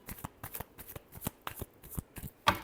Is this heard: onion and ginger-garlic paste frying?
no